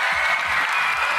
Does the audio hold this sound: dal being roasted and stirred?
no